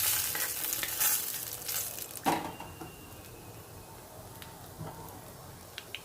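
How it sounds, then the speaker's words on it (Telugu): Curry leaves and tempering spices fry in hot oil for a ginger chutney, a close, steady sizzle with stirring clatter in the first two seconds, then a quieter crackle that fades. "ఇప్పుడు ఈ పోపులన్నీ బాగా వేయించుకుంటున్నాను నేను."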